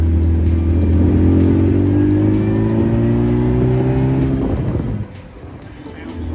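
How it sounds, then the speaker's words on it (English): A supercharged MGA classic car accelerates in second gear, its engine note climbing steadily and loud from inside the cabin, then dropping off sharply as the driver lifts. "You wouldn't know it was supercharged from the noise."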